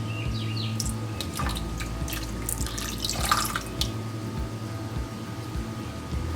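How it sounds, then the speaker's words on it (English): Water poured into a heavy-bottomed saucepan of sugar for homemade caramel, a steady trickling and splashing stream close by, with faint kitchen clatter and no talk. "Add 1/3 cup of water to foily moisten the sugar."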